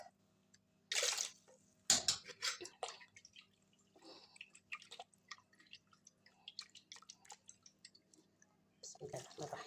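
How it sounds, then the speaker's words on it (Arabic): Soup broth is poured into a blender in a home kitchen while making a potato and meat tray, with a short splashing gush followed by scattered drips and sloshing, close and fairly quiet. "احط كده الشوربه في الخلاط."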